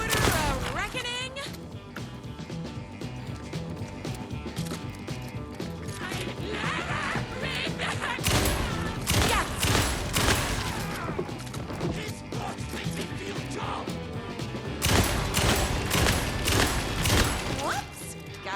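Rapid gunfire in the video game Alan Wake 2 sounds as loud, sharp bursts and cracks with mechanical clacks in between, scattered irregularly through a tense in-game scene.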